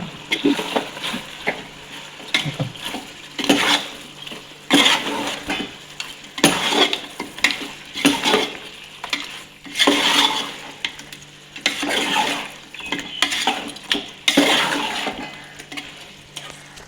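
Chicken coated in masala stirred in a pot while cooking for biryani, with a continuous scraping and sizzling and repeated rhythmic strokes of the spoon against the pot, close and fairly loud, with no voices.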